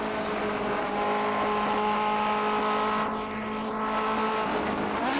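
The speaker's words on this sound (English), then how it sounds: "Now for this race I'm driving the Cooper Climax from the Richmond and Gordon Trophy" A 1950s Cooper Climax Formula 1 car in rFactor 2 on the 1967 Sachsenring layout, its engine holding a steady high-pitched drone throughout with a brief dip and shift in pitch, as if lifting and changing gear.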